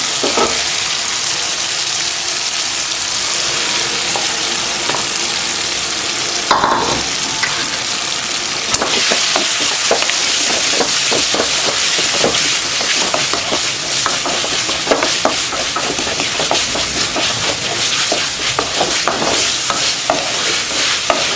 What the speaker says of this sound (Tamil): அடுத்து சிக்கன் சேர்த்துடலாம்.